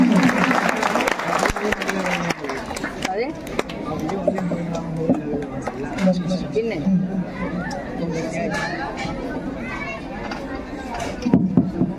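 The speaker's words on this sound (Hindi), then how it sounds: "और एक बार जोरदार तालियां हो जाए इस बच्ची के लिए।" Applause from a crowd at a district-level competition results ceremony for a prize-winning schoolgirl, steady clapping mixed with loud chatter and voices throughout, near and busy.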